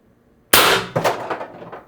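A single sharp shot from an IntruBuster Gen 2 gun, fired after a repair during a magazine feed test, cracks loudly and close, then decays in a brief clattering ring.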